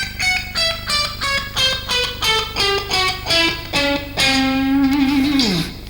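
Electric guitar runs a self-devised scale pattern in quick repeated phrases, ending on a sustained bent note that slides down; close, solo instrument, no talk.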